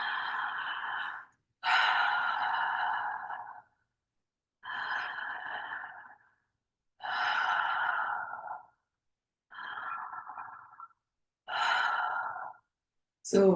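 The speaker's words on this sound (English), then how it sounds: "the circular breath is a slower than usual breath" Slow, deep breaths through the mouth for circular breathwork, six long airy inhale-exhale swells separated by short silences, close and steady with no talking.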